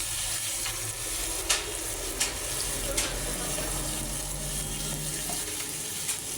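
Jackfruit being stirred with salt and turmeric in a frying pan, a steady hiss of cooking with a few sharp scraping taps of the spoon against the pan at intervals, no talking.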